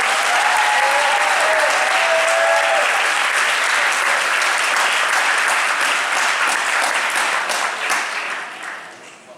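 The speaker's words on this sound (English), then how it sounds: "let's give our two Ludwig Award winners one more round of applause" A large audience at a high school athletic awards night applauds two award winners with dense, sustained clapping that stays loud for several seconds before tapering off at the end.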